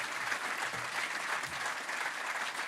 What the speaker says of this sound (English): I think we need another round of applause for Frank